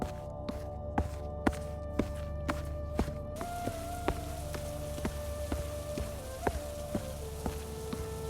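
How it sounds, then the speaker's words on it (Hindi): Heavy rain pours steadily in an animated story scene while footsteps thud through it at a regular pace, each step a distinct close knock over the constant hiss of falling water, with no talk. "अरे कबीर, इतनी भारी बारिश में तुम यहाँ?"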